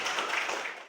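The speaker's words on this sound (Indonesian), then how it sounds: "Tepuk tangan untuk kita semua." Hands clapping together in a brief, dense burst of applause from an audience at a classroom physical education session, heard close and alone for under a second.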